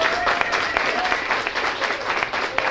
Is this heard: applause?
yes